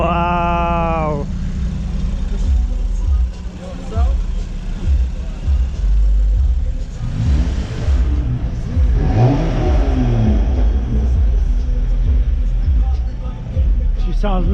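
A Lexus IS300 revving at an underground car meet, the engine note swelling and dropping through several throttle blips, loud and close, with people chatting nearby.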